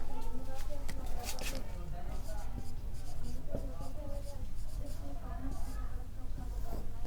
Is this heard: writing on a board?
yes